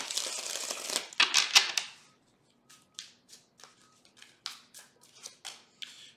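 Tarot cards are shuffled up close, first in a longer riffling burst, then in a series of short, quiet separate flicks and snaps.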